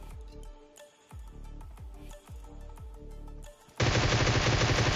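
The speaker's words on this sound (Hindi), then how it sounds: "तो मैं वैसे ही प्री फायर करता हूँ भाई" Bursts of gunfire in PUBG's Titan Strikes mode come as a string of sharp, evenly spaced shots, loud and close, before a sudden burst of dense broadband noise takes over.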